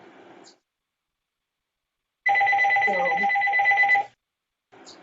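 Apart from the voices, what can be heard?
telephone ringing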